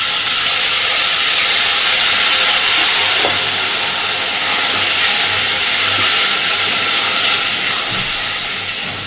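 Ginger, cumin, green chilli and tomato paste hitting a hot pan with potatoes for Bengali dhokar dalna, giving a loud, steady hiss and sizzle that runs throughout with a brief soft clatter partway.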